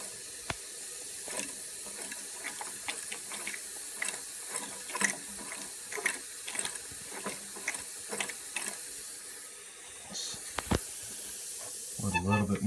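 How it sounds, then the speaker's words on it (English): A Jensen Model 25 toy steam engine gives off a soft, steady steam hiss with light mechanical clicking and ticking. A louder, sharper hiss burst comes near the end. "Let a little bit more steam build up."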